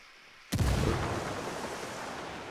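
A frag grenade explodes in Ghost Recon Wildlands with a single sudden, loud, close blast that trails off into a long, rumbling decay.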